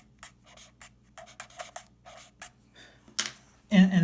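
Marker or chalk strokes on a board during a physics lecture on angular momentum, a run of short scratchy bursts in a quiet room, ending in a louder rustle.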